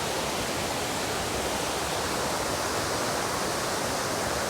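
Water rushing down Abbi Waterfalls, a steady broadband roar that fills the scene from start to finish with no voices over it.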